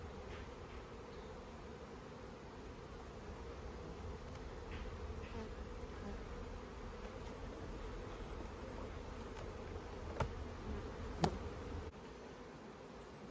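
Honeybees drone steadily around an open hive while it is being inspected for a queen during queen catching and marking, a dense continuous buzz with a few sharper close passes near the end.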